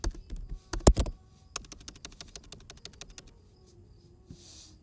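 Rapid keystrokes on a computer keyboard while an applicant's full name is entered into an online form, a close, crisp burst of clicking that thins out and fades to a few scattered taps, with no talking.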